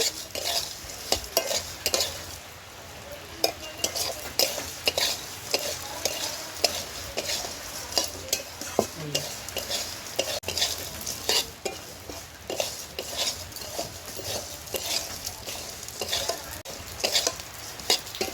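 Flattened rice (chire) snack mix frying in a pan with a continuous crackling sizzle, and a utensil scraping and stirring in quick repeated strokes throughout.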